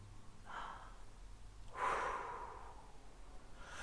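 Two slow, deep breaths sound close and soft during a calm relaxation exercise, first a shorter inhale, then a longer, fuller breath with pauses of near silence around them.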